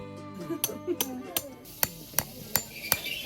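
Tent stakes being hammered into the ground at a campsite, a steady series of sharp, evenly spaced metallic strikes, close and loud, with someone speaking over the first blows.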